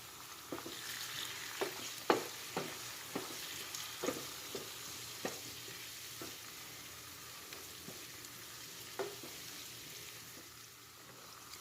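Garlic ginger paste fries in a pan for dal makhani, giving a steady soft sizzle broken by scattered clicks and scrapes from stirring, fairly quiet with no talking.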